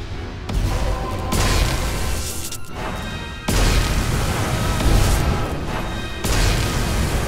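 Grenades explode in the action video game Magicka during a deathmatch: a series of heavy, crashing blasts follows one another over several seconds, each sharp onset dropping into a dense, loud, rumbling wash with hardly any gap between them.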